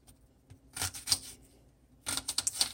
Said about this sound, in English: I've got just a regular sweet Vidalia onion. I'm just going to chop it like this.